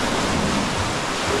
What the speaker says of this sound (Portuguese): E a água bate aqui na parede,